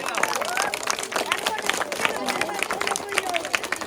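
Children clap at a gathering: a quick run of sharp, uneven claps from nearby over a murmur of voices and adult speech.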